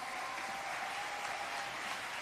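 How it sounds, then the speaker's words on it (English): Audience applause at a business keynote event for small and medium-sized enterprises, dense continuous clapping from a sizable crowd, steady and even in level, with no speech over it. "Can we get another round of applause"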